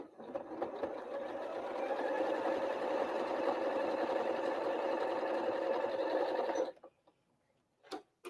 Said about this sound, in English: now we're going to sew directly on that line just as we have been